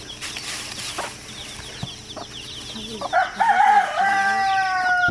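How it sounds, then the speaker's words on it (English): Chickens and small chicks in Bohol, Philippines, with a rooster crowing loudly and close by over soft clucking and peeping, plus a few faint knocks in the background. "Look at all these little chicks."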